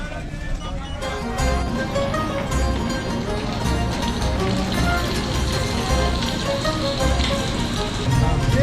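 Rain falls steadily on the Thursday street bazaar in Kelachay, Gilan, northern Iran, as a dense, even patter close by, with a voice heard now and then beneath it.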